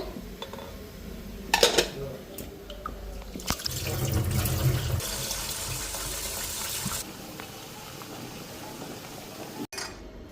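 Rice is washed in a pot in a home kitchen, with water sloshing and pouring, metal clinks and knocks of the pot, and a few sharp clatters along the way.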